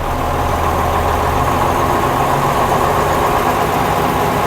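A 1956 Daimler double-decker bus with a pre-selector gearbox pulls away, its engine a steady, loud, close mid-low drone that holds even throughout with no talk over it.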